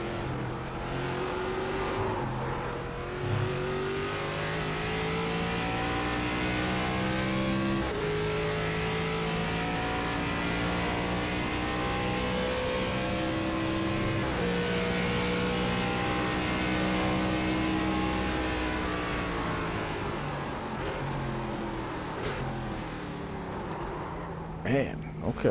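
A new ARCA stock car in the iRacing sim holds a loud, steady engine drone for about 25 seconds, with pitch climbing and easing through gear shifts as the car brakes and accelerates around the track.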